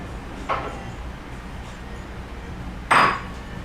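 Pasta being tossed quickly with eggs in a pan warmed only by leftover heat, in a Rome kitchen: two brief, faint metallic clinks of utensil on pan, spaced a couple of seconds apart, over quiet background.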